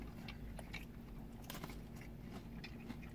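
Close, crunchy bites and steady chewing of a Domino's Philly cheesesteak pizza, repeating over a few seconds with no talk.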